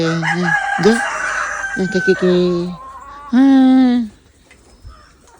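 Chickens cluck and a rooster crows loudly up close, with several bursts of calls in quick succession and brief pauses between.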